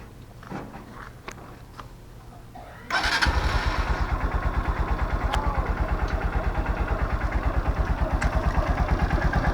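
A Honda TMX Supremo 150 motorcycle engine starts up after a few seconds of quiet handling noises, then settles into a loud, steady, rhythmic idle that thumps evenly close by.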